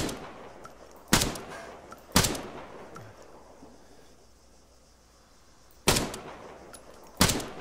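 Four isolated, sharp gunshots in Arma 3, fired singly at irregular intervals over a quiet low background, each a hard crack followed by a brief decaying echo.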